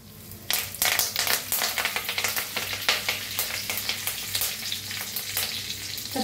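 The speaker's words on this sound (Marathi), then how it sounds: "त्याच्यात टाकूया 1 चमचा जिरं, त्याच्यात टाकूया कढीपत्ता" Cumin seeds and curry leaves crackle and sizzle in hot oil with mustard seeds already roasting, a loud, dense, continuous frying hiss with sharp spattering pops, up close.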